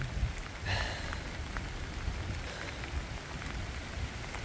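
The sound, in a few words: rain falling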